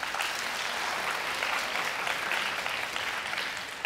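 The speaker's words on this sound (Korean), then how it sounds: "박수 한번 쳐줄까요?" Students in a school lecture hall break into steady applause, a dense wash of clapping that holds evenly for several seconds with no voices over it.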